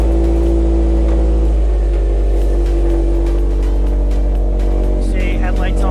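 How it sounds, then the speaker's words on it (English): A car engine runs steadily at idle, loud and close, a constant low drone with a faint hum on top, while the headlights, high beams and interior blower motor are switched on for a battery and charging system test. "start the vehicle, and we're gonna wanna turn on the interior blower motor, the headlights"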